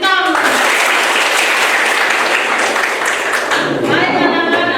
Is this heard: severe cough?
no